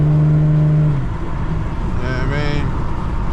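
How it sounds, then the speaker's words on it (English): Infiniti car fitted with coilovers, its engine holding a steady low drone at first, then rising in a brief rev with climbing harmonics near the end, heard up close. "Don't want to blow my damn engine."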